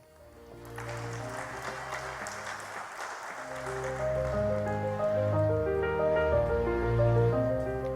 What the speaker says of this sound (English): Please, your applause.